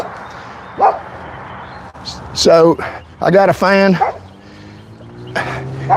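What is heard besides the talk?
dog barking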